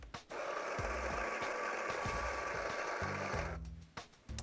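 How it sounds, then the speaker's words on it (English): Breville Dose Control Pro coffee grinder grinding into a portafilter: a steady mechanical whir lasting about three seconds, with clicks and clunks at the start and finish. "insert it into our grinding cradle and press the grinder to start"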